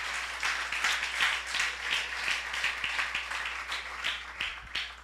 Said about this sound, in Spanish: Ahora, si va a aplaudir, apláudale al Señor.